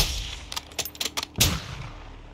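Sniper gunfire in the Call of Duty MW2 campaign, a few sharp reports in quick succession followed by one louder, booming shot with a rolling tail.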